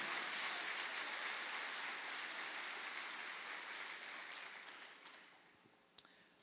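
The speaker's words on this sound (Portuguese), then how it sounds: "aplauda bem forte a Jesus" A church congregation applauds loudly during a missions service, a thick, rain-like wash of clapping that holds steady and then fades away, ending with a single sharp tap.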